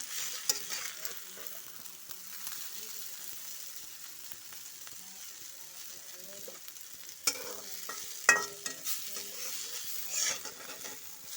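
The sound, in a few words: bitter gourd frying and being stirred in a pan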